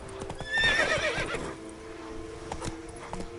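Roach the horse in Witcher 3 lets out a clear, close whinny over soft clip-clopping hooves, the neigh rising and fading within a second, then quieter hoof steps continue.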